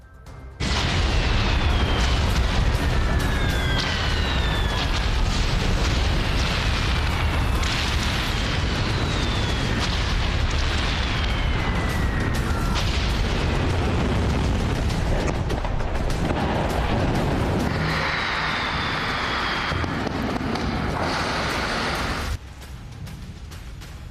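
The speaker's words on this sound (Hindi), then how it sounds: "बमबारी हुई, एक साथ कई ब्लास्ट हुए और आग की ऊंची लपटें उठने लगी" Bombing in Tehran, Iran, with several blasts at once and tall flames: a loud, sustained roar of explosions and rumbling fire with repeated bursts, continuing for over twenty seconds with no talk.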